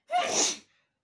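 A single sharp, close sneeze bursts out and fades quickly into silence, with no other sound around it.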